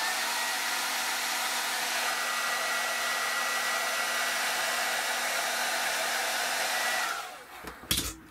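A hair dryer blows a steady, loud, close whoosh while drying paint on a small Airfix FW190 pilot figure. It runs for about seven seconds, then switches off, followed by a few handling clatters.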